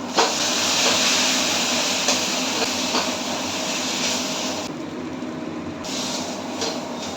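Onions and chillies with salt frying in oil in a pan, giving a continuous close, loud hiss and sizzle that briefly thins partway through, with no voices.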